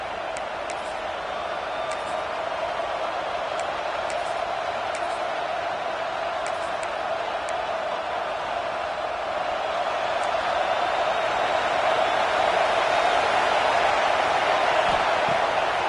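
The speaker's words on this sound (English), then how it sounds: "this crowd is fired up. Listen to this noise here." A constant, dense roar of a large stadium crowd in a college football video game that holds steady and swells slightly louder toward the end, with no distinct voices standing out.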